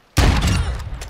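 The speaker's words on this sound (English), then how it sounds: "Woo, sniper." A single sharp sniper rifle shot in a video game, loud and close, with a sudden attack and a rumbling tail that fades over about a second.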